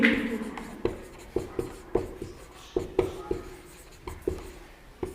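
Chalk or marker tapping and scratching on a classroom board during a Hindi biology lesson on blood, in a run of about a dozen sharp, evenly spaced strokes, close and clear with no talk.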